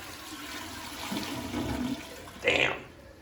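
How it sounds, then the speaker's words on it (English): A toilet in a second-floor bathroom flushes with a large volume of water, a rushing swirl building over a couple of seconds and ending in a sharp gurgling surge, with a voice heard faintly over it. "That's what you call a 5-gallon flush"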